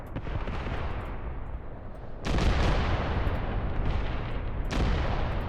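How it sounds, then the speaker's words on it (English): Artillery shells land in the war game Graviteam Tactics, a loud rumbling barrage with a heavy burst about two seconds in and another blast near the end, roaring continuously. "Our artillery is dropping."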